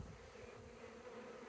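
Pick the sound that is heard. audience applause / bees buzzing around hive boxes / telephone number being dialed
bees buzzing around hive boxes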